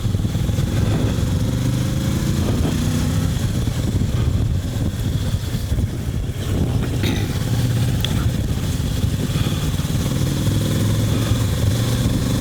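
A Kawasaki Versys 650 adventure motorcycle being ridden hard gives a loud, steady engine drone with wind rush throughout and slight shifts in pitch and load, heard close without any talking.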